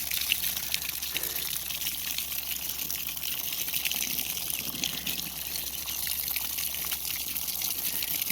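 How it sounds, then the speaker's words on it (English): Steady stream of water poured over growing corn plants in a garden bed, a continuous close splashing gush that runs unbroken throughout. "But give it some water anyway."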